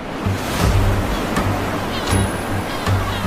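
Sea waves wash onto an untouched golden beach on the Arabian Sea coast between Mukalla and Aden, a loud continuous surf roar with rhythmic crashes and wind buffeting the microphone.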